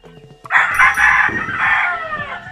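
Young male chickens penned together call loudly while being fed a moistened Integra and Inerton feed mix with corn and green peas, giving close, continuous harmonic squawking and crowing-like cries lasting a couple of seconds.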